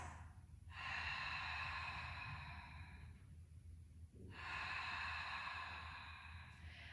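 Slow, deep breaths drawn in and let out during a lying core exercise, two long airy cycles close to the microphone in an otherwise quiet room with a steady low hum.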